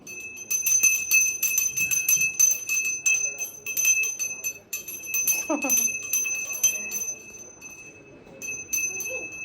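A small prayer hand bell rings repeatedly in bright, tinkling bursts during home worship, with soft voices and household noise underneath.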